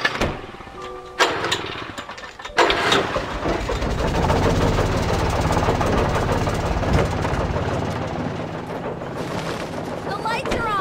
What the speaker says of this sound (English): An old generator had been connected to the power cable.